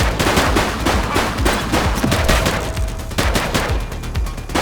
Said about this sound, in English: Don't just stand there, shoot back!